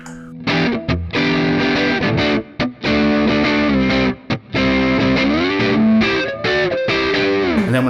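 Electric guitar played on the heavy preset of a Mooer preamp, loud and thickly distorted, a run of chords and notes with a few short breaks between phrases.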